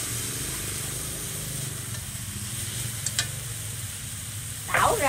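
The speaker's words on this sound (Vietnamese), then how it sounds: "Bún xào chay, đậu hũ cho tươi, mình chiên cho giòn." Tofu deep-frying until crispy in a pan for a vegetarian stir-fried noodle dish, giving a steady close sizzle with stirring scrapes and a brief louder clatter near the end, no talk.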